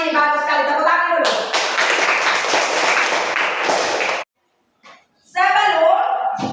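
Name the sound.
children clapping in class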